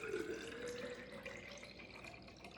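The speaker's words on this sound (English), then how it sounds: "So what we're going to do is pour some cold lemonade in." Cold lemonade poured into a tumbler fitted with a tea infuser, a faint, steady trickle of liquid running for a couple of seconds, heard quietly and alone.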